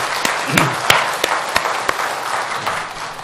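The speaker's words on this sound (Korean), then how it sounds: "박수." Congregation applause at a 2018 Korean church members' general assembly: loud, close clapping from a gathered group, sharp individual claps standing out over a steady wash that eases off toward the end.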